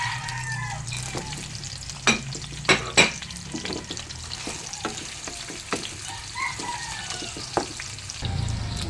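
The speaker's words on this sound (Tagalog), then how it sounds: "Lagay tayo ng sibuyas, guys. Halo-halo lang." Onions and pork steak sizzle in a hot pan while a utensil stirs them, giving steady frying hiss broken by several sharp scrapes and clinks against the pan, close by with no talking.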